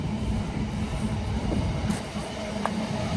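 A train rolls past near Tower Bridge, a steady low rumble of wheels and cars, moderately loud and continuous with faint clicks over the top.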